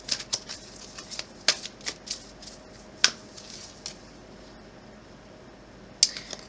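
Tarot cards shuffled by hand, a close series of crisp riffling bursts and papery flicks, irregular and fairly loud, with sharp snaps near the start and end and no voices.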